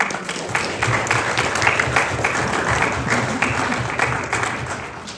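An audience at an arts series event on food and appropriation applauds continuously, a dense steady wash of clapping with no pause from start to end.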